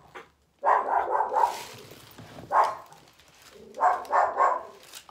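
A dog barks indoors, alerting at a loose dog outside: several bursts of loud, close barking in three clusters, with whimpery gaps between them.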